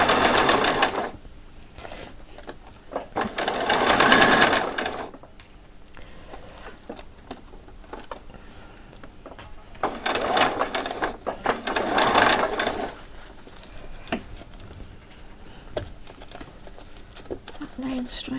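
A sewing machine stitches a Christmas party dress in two rapid mechanical bursts, one early and one later, separated by quieter stretches with faint handling sounds.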